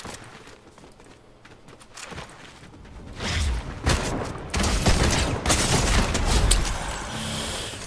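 Shotgun blasts ring out in the shooter game Vertical, a few scattered shots at first, then a louder dense barrage of firing and impacts in the second half.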